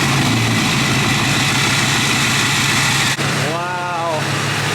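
A newly bought diesel pickup truck with an LMM engine and aftermarket tuning idles close by, giving a loud, steady low rumble throughout with a brief hitch near the end. Someone speaks over it.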